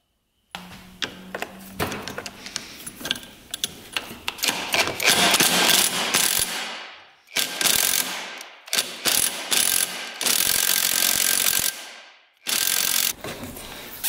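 A ratchet works on the clutch of a Yamaha YFZ 450 quad engine. Rapid clicking bursts come up close, broken by short pauses between runs of loud, steady ratcheting.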